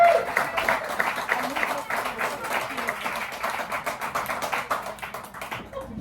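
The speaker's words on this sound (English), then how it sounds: "a big round of applause" A small crowd at a river house venue in Capon Bridge, West Virginia claps for a performer, giving a lively, close run of distinct hand claps with voices chattering underneath, easing off near the end.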